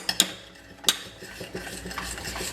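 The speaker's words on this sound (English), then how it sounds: "Stir." A utensil stirs lamb sauce in a pan, with a few bright metallic clinks against the pan early on, then softer scraping and stirring, close and fairly quiet.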